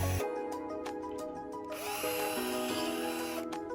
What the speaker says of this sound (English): Then drill.